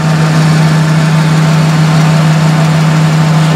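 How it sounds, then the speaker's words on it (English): A steady engine idles close by, a constant low hum with a strong droning tone and no breaks or voices. "I'm looking at the engine"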